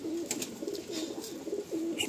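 Fulsira pigeon chick in a loft, a repeated low throaty cooing hum that pulses steadily across the clip, close and moderately quiet.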